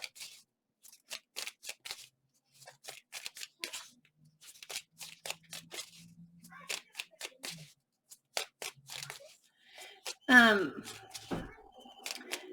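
Tarot cards are shuffled in short crisp riffling and snapping bursts, close and soft, with a louder flurry near the end.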